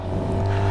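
A Suzuki GSXR750 motorcycle engine runs at a cold start, giving a brief, close, steady low drone.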